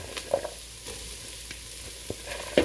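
Vegetables sweat in a pan with a soft, steady sizzle, punctuated by a few light stirring scrapes and taps, close and fairly quiet with no talking.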